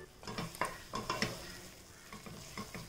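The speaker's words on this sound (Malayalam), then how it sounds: "എൻ്റെ അടപ്പൊന്ന് മാറ്റിയിട്ട് ഇതൊന്ന് ഇളക്കി കൊടുത്തിട്ട് ഗ്യാസ് ഓഫ് ചെയ്ത് കൊടുക്കാണ്." Food being stirred in a pan on a gas stove, probably a tomato onion chutney, with a soft background sizzle and several distinct scraping strokes of the spoon against the pan, close up, with no talking.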